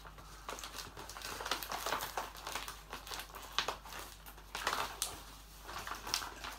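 A cardboard parcel holding a literary subscription box being opened by hand, with quiet irregular crinkling, crushing and tearing of packaging close by, no talk.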